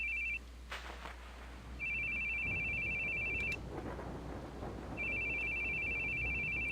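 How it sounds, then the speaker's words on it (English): A phone rings in The Boogie Man video game, a steady electronic warble sounding in two long bursts and a short one over a low hum and quiet background noise, with no voices. "Your phone's ringing."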